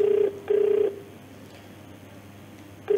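An outgoing telephone call to a district magistrate's office rings back in steady tone bursts, two clear rings with a long gap between, loud and close with no talking.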